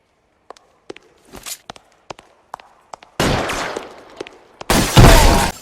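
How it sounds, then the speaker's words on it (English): Footsteps in the video game L.A. Noire: sharp, separate steps tapping in an irregular rhythm, then broken by bursts of loud, harsh noise that could be gunfire or impacts. "There's some really satisfying footstep sound effects going on here."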